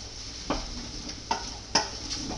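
Onions and garlic cook gently in a pot while a spoon stirs them, giving a soft sizzle with three or four distinct scraping strokes. The sound is close and quiet, and no one speaks.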